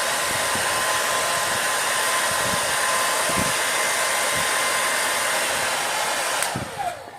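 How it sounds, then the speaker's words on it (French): A hair dryer used for heating while making a printed circuit board blows continuously at close range in a loud, steady whoosh, cutting off near the end. "Vous avez un sèche-cheveux."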